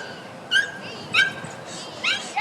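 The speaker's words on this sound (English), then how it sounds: "And Kermit just kind of a squeak bark there saying, here I come, let's go." A dog at an agility competition gives a few short, squeaky high-pitched yips in quick succession, clearly audible over the faint background murmur of the arena.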